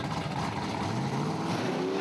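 A 1956 Bel Air and a 1950 Business Coupe launching side by side at a drag strip, their V8 engines making a steady, loud, rising roar with no talking.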